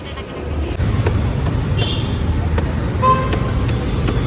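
Vehicles queue near a temple during Tamil New Year, with a steady roadway rumble of idling and slowly moving cars, a few short horn toots, and faint voices nearby.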